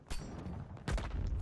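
Gunfire in Battlefield 5, two loud bursts of automatic shots separated by a brief lull, punchy and close with rumbling low end.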